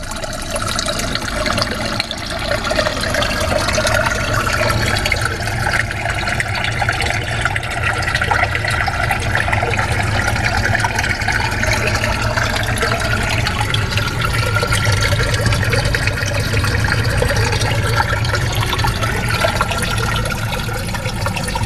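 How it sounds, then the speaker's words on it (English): A mountain stream flows steadily, a continuous broadband rush of water close by that holds an even level throughout with no pauses. "we have a mountain stream."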